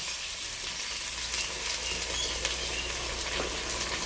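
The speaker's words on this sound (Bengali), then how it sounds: "ছোলা ভেজাটা একটু ভাজা হয়ে গেছে" Soaked chickpeas fry with a soft, steady sizzle in a pan with light stirring, fairly quiet and continuous.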